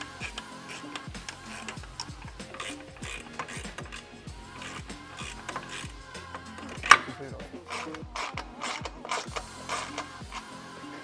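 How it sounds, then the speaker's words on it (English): A hand ratchet tightens 14 mm exhaust bolts during a titanium dual exhaust install on a Nissan 350Z, with steady rapid clicking bursts throughout and one sharper clank midway, close by. "I'm just gonna tighten everything down so it's nice and snug"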